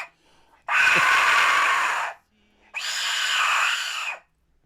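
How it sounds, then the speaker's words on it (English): A death whistle blown twice, each blast a loud, harsh, scream-like shriek lasting over a second, separated by a short silence, close and with no talk over it. "When you blow on it, it shrieks like a woman,"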